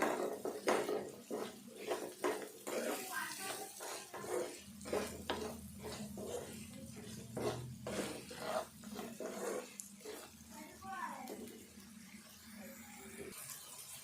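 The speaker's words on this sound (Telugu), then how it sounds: "బీరకాయ ముక్కలు వేసుకున్నాము ఇవి కూడా వేగాలి" Ridge gourd pieces fry with chicken curry in a pan, giving a soft sizzle broken by repeated scraping and clinking as a utensil stirs against the pan. The sounds are quiet and close.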